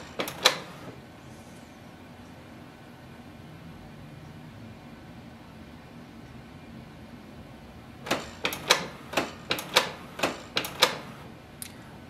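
A Canon TS3750i inkjet printer runs a print head cleaning cycle: a couple of sharp mechanical clacks, then a long quiet low hum, then a rapid series of about eight rattling clicks and clunks close by.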